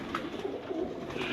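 Pigeons on a keeper's rooftop coo in soft low warbling bursts close by during the moulting season, a short quiet stretch with no voices over it.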